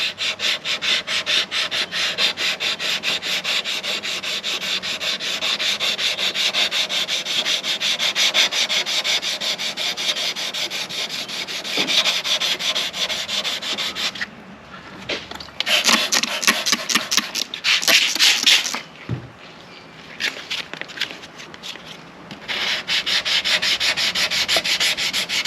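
Hand sanding along the body lines and creases of an outboard motor cover, feathering in primer before spray painting: a steady, close scratchy rubbing that runs for long stretches, pausing briefly with a few short separate strokes in between.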